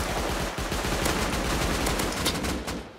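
Rapid bursts of AK rifle fire crackle densely in a Rust video game firefight, loud and close, with shots packed into a continuous automatic stream.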